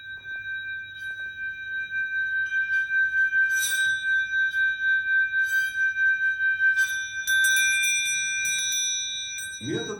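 A small bell, a Chuvash folk instrument, rings with a clear sustained metallic tone that pulses and wavers as it is played, near and fairly loud, with light rattling touches and a brief shimmer of higher strikes.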